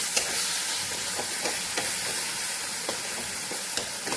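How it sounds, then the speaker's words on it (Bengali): Tomato frying with ginger, cumin, green chili and garlic, a dense continuous sizzle up close, broken by regular light taps and scrapes of a spatula. "এবার একটু আদা, জিরে, কাঁচা লঙ্কা আর 1-2 কোয়া রসুন, এই মশলাটা এর মধ্যে দিয়ে একটু ভাজবো"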